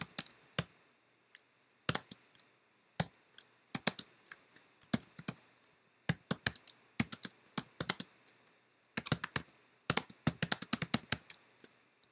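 Rapid bursts of typing on a computer keyboard while a git commit message is written, crisp close clicks arriving in irregular clusters with short pauses between runs, no voices.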